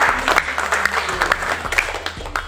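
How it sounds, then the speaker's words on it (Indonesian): Lively applause at the final round of a Quran quiz competition, a crowd clapping energetically and continuously at close range, with faint talk and a low background hum. "Berikan tepuk tangan yang meriah untuk kita semua."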